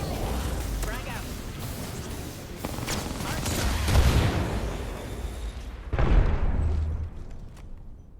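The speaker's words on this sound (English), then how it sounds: "Frag out." A frag grenade goes off in an Apex Legends firefight, a loud booming burst near the middle followed by a second blast, under continuous gunfire and people talking over the chaos.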